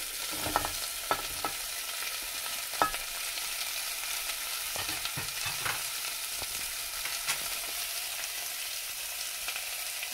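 Chopped turnips fry in a hot pan with a steady bright sizzle, while a spatula scrapes and knocks now and then as they are stirred, close up and without talk.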